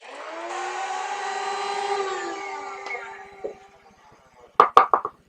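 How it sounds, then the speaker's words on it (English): An electric spice grinder whirring through dried wild spearmint and a wild allspice berry, a steady high motor whine for about three seconds, then a few sharp knocks and taps near the end. "Can all go into the grinder,"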